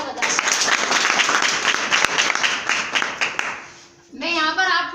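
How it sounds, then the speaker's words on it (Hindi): An audience claps loudly for the coaches seated at an event, steady dense applause for about four seconds before it breaks off and a voice begins speaking. "प्लीज उनके लिए एक बार जोरदार तालियां बजाएं"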